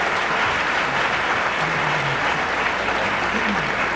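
Audience applause at a 1992 Democratic primary candidates' debate fills the hall, a steady dense roar of clapping and crowd noise sustained throughout, loud and close, with no talk over it.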